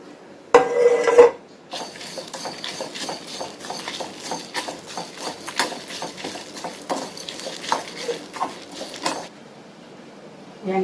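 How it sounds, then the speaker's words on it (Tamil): Coconut sautéing in a pan for Tamil chicken curry fry sounds as a spoon scrapes and clatters against metal in an uneven, close, fairly loud stream, with a short burst of other noise near the start. "அடுத்து தேங்காவை கூட போட்டு நல்லா வதக்கிடுங்க."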